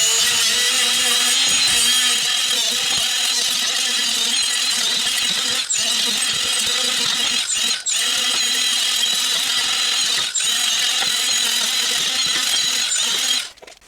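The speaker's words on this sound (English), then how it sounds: "these 1-inch Scotch wheels work really well for getting in there around the bolts" A 1-inch Scotch abrasive wheel grinds the brake hub surface of a 2018 Honda Accord, giving a loud, steady high-pitched whirring squeal with a few brief dips as it shifts position.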